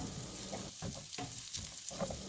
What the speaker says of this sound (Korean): 다른 팬에서는 알리오 올리오 파스타를 휘리릭 볶아주고요.